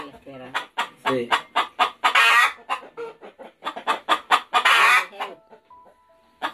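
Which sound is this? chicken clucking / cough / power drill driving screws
chicken clucking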